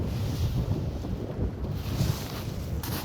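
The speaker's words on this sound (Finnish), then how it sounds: "Tänään tuulee." Steady wind gusts rush over an open fishing spot on the water, a continuous low roaring buffet across the microphone with no pauses.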